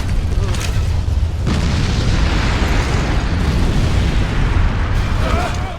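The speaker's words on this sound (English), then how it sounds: "there's a volcanic eruption happening outside" Deep, continuous booming rumble of volcanic eruption explosions in the video game Disaster: Day of Crisis, loud and sustained with dense low roaring and occasional sharper bursts throughout.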